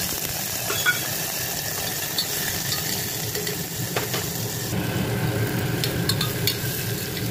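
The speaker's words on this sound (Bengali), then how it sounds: "তো প্রেশার কুকারটা ভালো করে গরম করে নিয়ে একটু তেল দেবো, দিয়ে আগে আলুটা সয়াবিনটা ভেজে নেব" Potatoes and soybean chunks fry in oil inside a pressure cooker, making a continuous close sizzle with light crackles and occasional stirring clatter.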